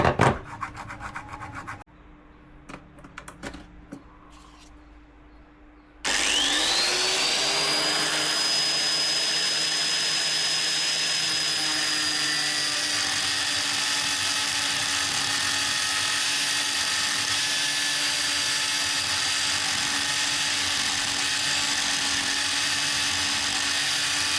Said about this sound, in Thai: ใช้เลื่อยตัดครับ